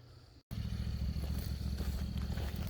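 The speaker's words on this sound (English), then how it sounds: "So now I'm gonna pull the trailer off and hit it with the riding mower." A riding lawn mower engine runs on a grassy shooting range. After a brief gap it starts up into a close, steady, rumbling drone with a faint rattle running through it.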